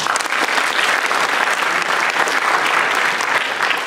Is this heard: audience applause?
yes